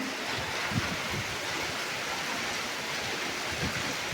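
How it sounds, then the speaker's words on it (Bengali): Heavy rain pours down in a dense, unbroken hiss that stays level throughout, with no talking. "অঝোর দ্বারায় বৃষ্টি শুরু হয়েছে"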